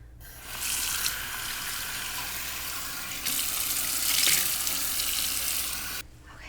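Tap water runs steadily into a sink while a face is rinsed, a continuous broadband splashing that swells slightly midway and cuts off abruptly near the end.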